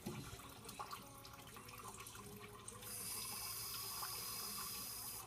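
Condensate water from an HVAC line drains steadily into a pipe or sink, a continuous rushing trickle that grows fuller and brighter partway through, heard up close with no talking.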